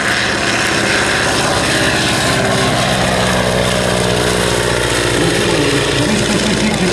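A light aircraft's propeller engine runs loud and close at Sarlat-Domme aerodrome, a continuous droning roar as power is applied, steady with no break and no voices over it.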